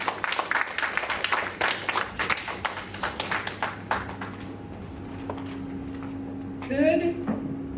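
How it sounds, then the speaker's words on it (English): Audience applause at a talk, a burst of moderately loud clapping for the first four seconds that thins out and fades, followed by quiet room tone and a short voice. "Round of applause"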